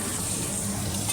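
Chicken bouillon cubes being stirred into hot water, a brief continuous swishing, bubbling wash heard close and fairly loud, with no speech.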